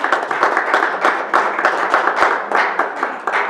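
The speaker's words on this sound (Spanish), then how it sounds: "damos un fuerte aplauso" Applause from a church congregation at an evangelical preaching service, a steady patter of many hands clapping at moderate loudness that stays dense and even throughout.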